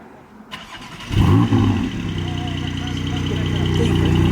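A Porsche 718 Spyder fitted with a gasoline particulate filter fires up and revs, a sharp blare settling into a loud, steady droning exhaust note that grows slightly; brief voices occur at the start.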